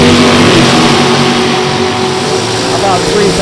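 A rear-engine dragster with a Race Tech chassis rumbles loudly at a drag strip, its engine droning steadily and close, under a track announcer talking over the noise.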